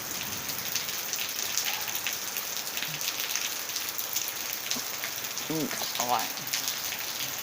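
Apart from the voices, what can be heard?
rain falling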